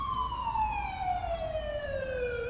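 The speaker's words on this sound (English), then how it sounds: "what's up with the ambulance?" An ambulance siren in the video game Cutting Class, one long, steady falling wail that stays fairly loud and close throughout, with no speech over it.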